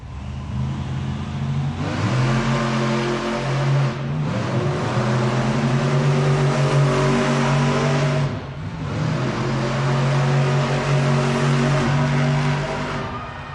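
Monster truck engines rev and roar loudly in an indoor arena during a racing event in Tucson, Arizona, surging in long waves with brief dips between the runs.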